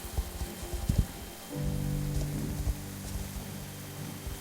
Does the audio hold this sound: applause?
no